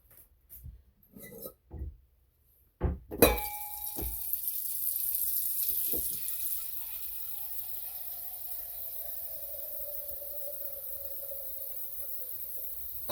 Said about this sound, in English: add a little cold water just to bring the temperature down a couple degrees.